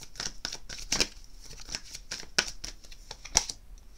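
Angel tarot cards being shuffled, a close series of soft riffling flicks and snaps repeating irregularly over several seconds.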